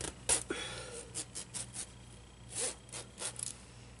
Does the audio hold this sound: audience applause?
no